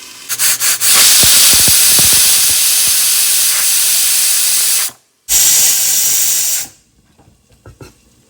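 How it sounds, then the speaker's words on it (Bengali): A pressure cooker whistle releases steam in a loud, close, continuous hiss lasting several seconds, breaks off briefly, bursts again, then cuts out to near quiet. "প্রেশার কুকারে ছিটি দিয়ে দিয়েছে"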